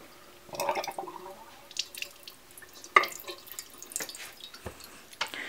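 Water trickling and dripping from a handmade ceramic pet drinking fountain just switched on, with irregular splashes and drips at close range, fairly quiet with no voices.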